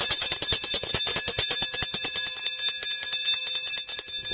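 A hand bell rings rapidly and repeatedly, bright and metallic, signalling the last lap of a mountain bike race on a Beastway series course, with a fast steady clanging rhythm throughout.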